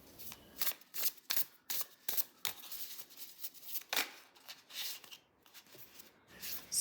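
Tarot cards from a mass-market deck are shuffled by hand in a string of quick papery riffles and slaps, close up, with short pauses between bursts and no talking.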